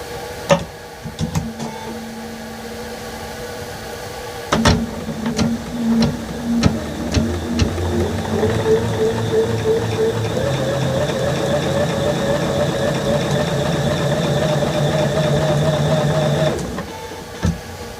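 A sewing machine stitches fabric pieces for a quilt block. A few clicks and clunks as the cloth is positioned give way to a steady whirring, motor-driven run of stitching that continues evenly for about twelve seconds before stopping.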